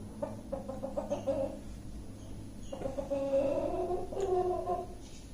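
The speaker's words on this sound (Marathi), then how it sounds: "तर असे मल्टी कलरचे सुंदर पक्षी जर तुम्हाला मागवायचे असतील तर तुम्ही गणेश कोलिवाड सरांकडून मागवू शकता." A multicolored rooster crows nearby, two or three rough drawn-out calls separated by short pauses, over faint background noise.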